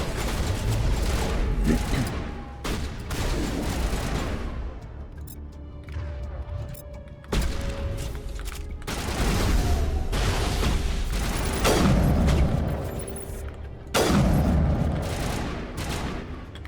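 Shotgun blasts in Mass Effect Legendary Edition combat, with loud, dense booming shots and heavy crashes in rapid bursts over continuous game noise, each volley separated by brief dips.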